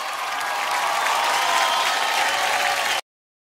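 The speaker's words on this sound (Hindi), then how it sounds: "तो चलिए एक बार विकास और हर्ष के लिए जोरदार तालियां" A studio audience on the game show Khatra Khatra Khatra gives Vikas and Harsh loud, sustained applause and cheering that runs steadily before cutting off to silence.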